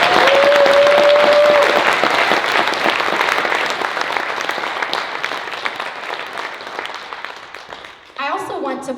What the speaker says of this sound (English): please help me give them one more round of applause